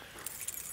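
A bunch of keys that includes a car key jangles briefly and faintly, giving a quick metallic clinking rattle.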